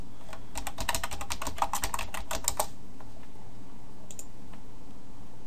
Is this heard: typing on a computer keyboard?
yes